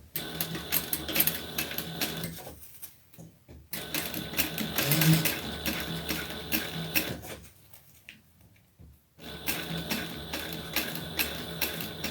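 A sewing machine stitches in fast, rhythmic mechanical bursts, running for a few seconds, pausing, then restarting, including backstitching runs, loud and close with brief quiet gaps.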